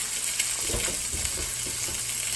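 Salmon fillet frying in a skillet gives a steady, soft sizzle with faint stirring crackles, close and alone with no talk.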